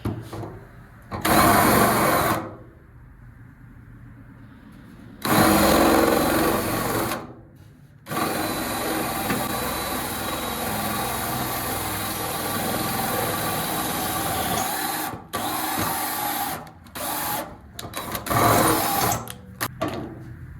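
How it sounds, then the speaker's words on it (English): Loud bursts of a power drill with a worn drill bit whirring in short runs, then a long steady drilling stretch with a few stops and restarts near the end. "Drill bit's starting to go bad."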